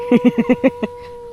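A small dog barks six times in quick succession, short sharp yaps close by, then falls quiet over a steady electrical hum.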